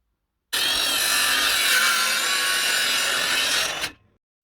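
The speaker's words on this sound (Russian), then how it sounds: "Для распускания доски использовал боковой упор, который шел в комплекте к циркулярке." Circular saw ripping lengthwise through a wooden board using the fence supplied with the saw, one loud continuous cut lasting about three seconds that starts abruptly and tails off as the blade exits, with no voices.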